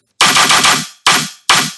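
Three punchy synthesized gunshot bursts built with a knife sample for the transient, the first a rapid four-hit rattle, then two single blasts, each with a sharp attack and a short decaying tail.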